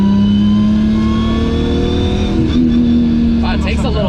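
A Nissan Skyline R34 GT-R with a big G42 turbo and roughly 580 wheel horsepower pulls hard, its engine note climbing steadily and loud close by, with a brief shift-like break before rising again.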